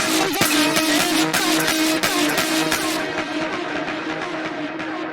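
An electronic music track moves into its breakdown, with dense layered synths and drums that thin out halfway, leaving a darker, reverb-washed tail.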